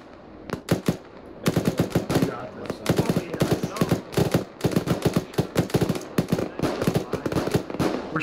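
Gunfire in the military shooter Arma 3 crackles in dense, rapid bursts of sharp shots, close and loud, repeating almost nonstop with brief gaps between volleys.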